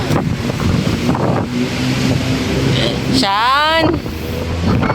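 Strong wind buffets the microphone outdoors as a steady, rough roar that runs the whole time beneath people talking, with a brief whistling tone rising in the middle.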